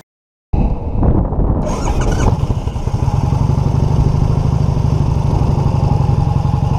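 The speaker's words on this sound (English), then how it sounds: "let's go take this guy for a quick spin so you can kind of see what it's like to go for a ride on an Excelsior Henderson" After a brief silence, a 1999 Excelsior Henderson Super X motorcycle fires up and rides off, its engine note rising and settling into a steady, loud, close drone as it gets under way.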